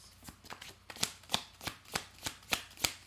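A tarot deck, Divinely Me Volume 2, is shuffled and cards are drawn, giving a steady run of crisp card snaps and riffles, evenly spaced and close, with nobody talking.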